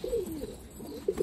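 A pigeon gives a brief, soft, low coo nearby, with quiet background noise.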